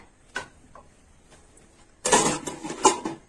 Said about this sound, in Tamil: இதை வந்து மூடி வச்சிருங்க